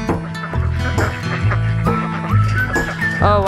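Ducks near a turkey give several loud nasal quacks in quick irregular bursts, close by and clear, with a brief rising call near the end.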